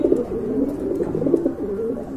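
Pigeons coo close by in low, throaty, rolling calls repeating over and over, near and fairly loud, with no talking.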